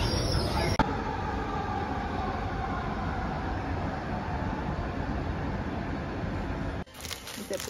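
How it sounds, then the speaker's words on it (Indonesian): Light rail (LRT) train at a station platform: a steady, loud broadband rumble and rolling hum of a train arriving or running past, continuous for most of the clip before dropping off near the end. "Now we're at LRT waiting for the train to come and we're going back home."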